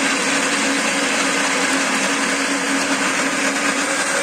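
A kitchen mixer grinder whirs continuously at high speed, chopping tomatoes into small pieces, a loud, steady, close motor drone with no talk over it.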